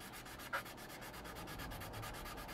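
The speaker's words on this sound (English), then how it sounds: "I'm now just kind of like smoothing off the plastic, polishing, starting to polish it up" Plastic on a 1/48 scale Junkers Ju 88 A-4 kit is sanded and polished smooth, a quiet continuous rubbing with a brief louder scrape near the start.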